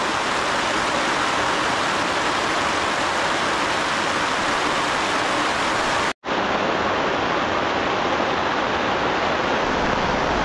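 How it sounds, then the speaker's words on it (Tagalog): Heavy rain pours down as a dense, constant hiss at a campsite on Mt. Olis, steady and loud throughout, with one momentary break. "Sobrang lakas ng ulan pero bale wala."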